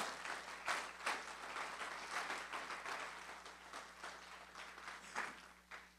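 A church congregation claps together after the preacher calls for applause to the Lord, a broad, fairly distant roomful of hands that rises and falls in waves over several seconds with no talk on top.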